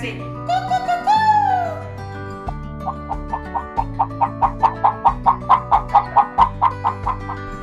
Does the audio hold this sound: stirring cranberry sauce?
no